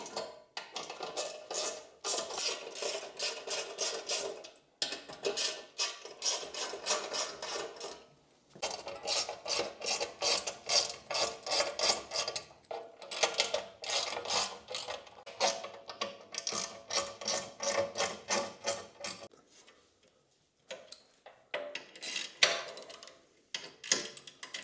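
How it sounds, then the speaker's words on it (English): A hand ratchet clicks rapidly in bursts while tightening skid plate bolts on a BMW F900GS, the close, crisp ticking repeated in several runs separated by short pauses. "we're gonna go ahead and gradually tighten all of them one by one."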